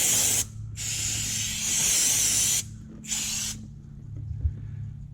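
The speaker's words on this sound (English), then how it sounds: "And then spray off any residue." A pressurized spray hisses in loud bursts, stopping briefly between them, over a low steady hum, then cuts off, leaving the hum alone, while washing oil residue off the underside of a 2018-2020 Ford F-150 5.0L.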